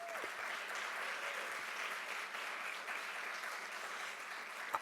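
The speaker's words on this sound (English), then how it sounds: "I'd like to give a big round of applause for all of those people" A large audience at an awards ceremony gives a sustained round of applause, a dense, even wash of clapping heard from a distance that holds steady throughout.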